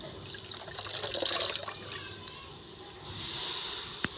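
Mustard greens are washed in water for saag: soft splashing and trickling close by, with a brief drip near the end, and a voice speaking faintly beneath.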